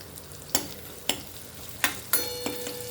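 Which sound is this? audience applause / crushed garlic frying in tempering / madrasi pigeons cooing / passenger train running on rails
crushed garlic frying in tempering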